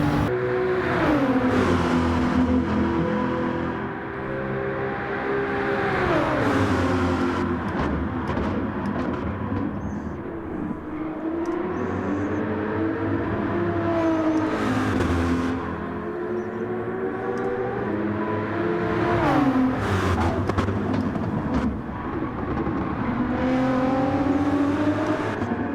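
A race car in Gran Turismo 7 laps Mount Panorama, its engine wailing steadily through rising and falling gear changes across the whole stretch, loud and close with no talk over it.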